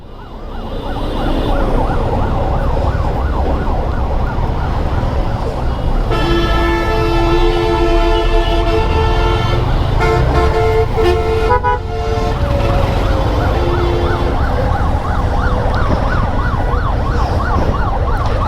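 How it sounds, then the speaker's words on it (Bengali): Ambulance sirens wail continuously in dense road traffic, with a steady rising-and-falling siren joined midway by a second louder, piercing siren tone over constant engine and road noise. "দুটো অ্যাম্বুলেন্স পিছনে গাড়িটা বামের সাইডে নাও"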